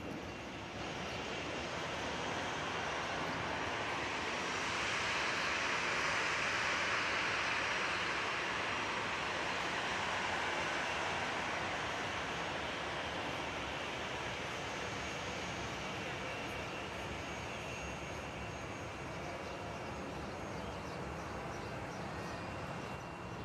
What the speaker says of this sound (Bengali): এটি হলো ইউএস বাংলা এয়ারলাইন্সের একটি বিমান। এই বিমানটি কিভাবে উঠবে দেখুন